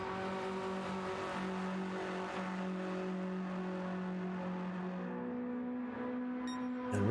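A race car in a sim racing game holds a steady, sustained engine drone with clear harmonic tones, then the pitch drops near the end as it shifts or slows. No voices are heard.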